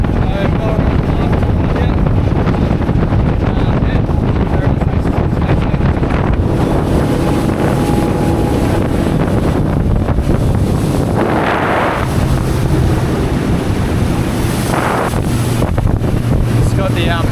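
A boat with a refurbished Volvo Penta outboard cruises slowly across a Northern Territory billabong on a hot day, its steady motor drone heavily buffeted by wind noise, with voices talking over it.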